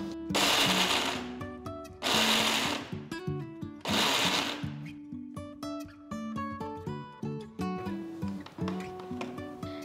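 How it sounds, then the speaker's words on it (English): Mixer grinder pulsing 3-4 cups of walnuts into a coarse powder, with three loud bursts of grinding followed by a lower rattling, clattering whir inside the jar. "First, I'm going to pulse them a few times to a nice coarse powder."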